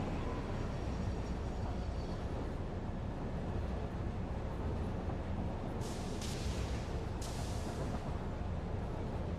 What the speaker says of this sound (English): I love the train noises. They're so good.